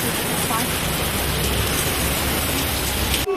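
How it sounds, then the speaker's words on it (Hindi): Heavy rain pouring down outdoors near a parked motorbike, a dense, loud, unbroken hiss of drops that continues throughout and stops abruptly at the end. "ये देखो इतनी तेज़ बारिश है"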